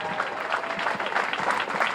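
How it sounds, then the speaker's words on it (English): Rally crowd applause at a police defunding rally in New Orleans, continuous dense clapping from many people, fairly loud and steady, with some voices faintly mixed in. "yes, applause"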